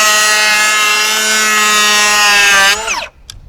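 A RIDGID Octane 18V cordless planer runs with a loud, steady high-pitched whine. The motor then spins down over about half a second, and one or two faint clicks follow.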